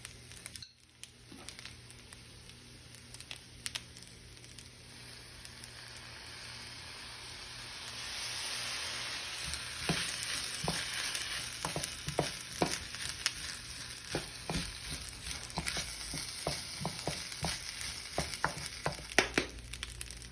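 Steak and shrimp hibachi stir-fried with dark soy sauce in a home pan, a steady sizzle that grows louder and denser with stirring scrapes and clinks.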